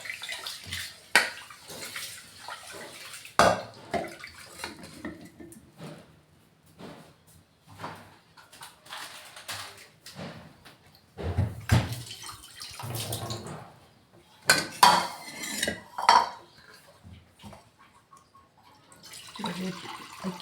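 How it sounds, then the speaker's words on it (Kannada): Rice is rinsed by hand in water in a kitchen, with intermittent splashing and sloshing bursts and occasional knocks of the vessel, close and fairly loud, with quieter gaps between. "ಅಕ್ಕಿ ನೀರು ಒಂದು ಸರಿ ತೊಳೆದ್ಬಿಟ್ಟು 2ನೇ ಸರಿ ತೊಳೆದು ತಕ್ಕಂತ ಇದ್ದೀನಿ."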